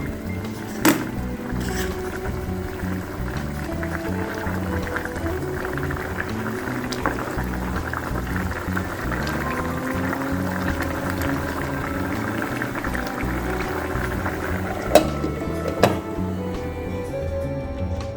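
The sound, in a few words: baby jackfruit curry simmering covered on low heat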